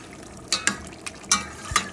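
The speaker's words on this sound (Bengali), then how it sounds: "এখন আমি ভালো ভালো নাড়াচাড়া করে দিচ্ছি যাতে সবগুলো মশলা একত্রে মিশে যায়" A spoon stirs goat meat with spices in a cooking pot, giving a handful of short scraping, clacking strokes spaced irregularly over a faint sizzling background, close and moderately loud.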